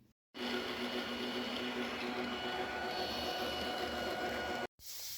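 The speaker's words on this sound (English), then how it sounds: "I'm just toasting the seeds in my toaster oven to draw out the moisture" A toaster oven runs steadily while toasting curly dock and lambsquarters seeds to dry them before grinding into flour: a constant, fairly loud hum and whir with no talk, cutting off abruptly near the end.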